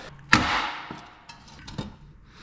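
A hammer strike on a brake backing plate rings out sharply, followed by a few fainter taps and knocks, close by in a quiet workshop.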